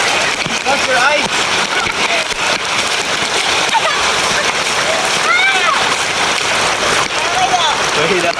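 Heavy rain pours and splashes steadily at a river during a downpour, a dense, close hiss that fills the whole stretch while people talk and call out over it.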